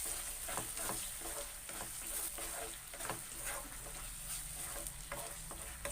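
Pineapple halwa with grapes and cashews being stirred in a hot pan, with a steady soft sizzle and frying crackle under repeated scraping and stirring strokes, close and continuous with no talking.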